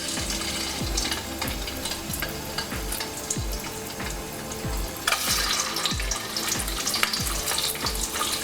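Boiled eggs dropped into hot oil for a prawn and drumstick curry, giving a loud continuous fry and sizzle with a regular rhythmic low thumping beneath it and brighter crackle after midway.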